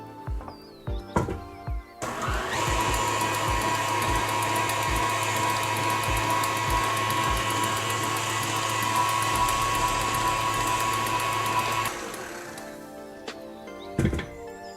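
An electric mixer whisks vanilla into stiff pavlova meringue, a loud, steady high-pitched whirr lasting about ten seconds. A few knocks and clatters from the bowl come before and after.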